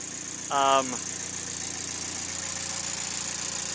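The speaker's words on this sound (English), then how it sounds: "So the car started right up, no hesitation." A car engine idling with a steady low rumble after starting, fitted with a CPR battery mount, heard close. A brief voice sounds near the start.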